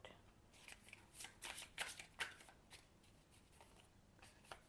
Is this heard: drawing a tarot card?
yes